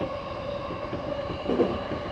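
A Yamanote Line train in Tokyo rumbles steadily along the tracks with a low continuous roar and a faint squeal, heard from inside or close by, no talking.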